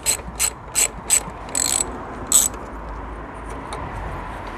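Ratchet wrench works 10mm bolts off the power steering bracket on a BMW E60 5 Series: a handful of quick, bright clicking bursts up close, then a longer rattle, before fading to quiet workshop background.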